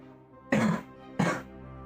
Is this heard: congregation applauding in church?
no